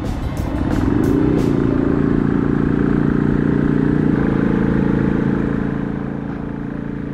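A Yamaha XV250 Virago motorcycle rides along the Tochigi city bypass, its engine droning loud and steady with a rise in revs near the start, a gear change partway through, then easing off toward the end.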